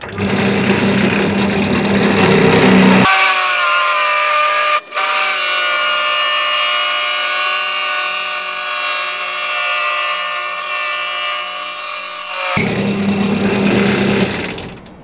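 A power drill bores a hole through a wooden candle holder clamped down on a bench, a steady whining bite lasting about ten seconds with one brief stutter, loud and close, with quieter handling noise before and after.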